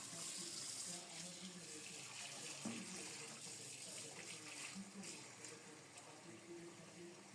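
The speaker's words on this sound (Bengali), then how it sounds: "আমি এখন পিসগুলো পরিষ্কার করে ধুয়ে নিয়ে তারপরে কেটে নেব।" Tap water runs steadily into a sink as pieces of desi chicken are washed, a continuous close splashing rush that stays level throughout, with faint handling sounds and no clear talk.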